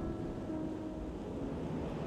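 Rough sea in a storm churns steadily, a dense, continuous wash of waves mixed with wind noise, without pause or talk.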